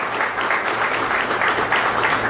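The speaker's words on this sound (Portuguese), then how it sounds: "Merece uma salva de palmas, pessoal." Dense, steady applause from a large audience at a São Paulo state government event on airport investment, filling the whole stretch evenly with no pauses, along with a faint murmur of voices underneath.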